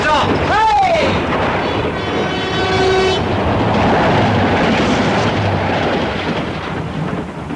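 A train roars past with a loud rushing rumble and a sweeping horn-like whistle early on, then a steady clatter that fades slightly toward the end, staged as a sound effect in a BBC radio drama.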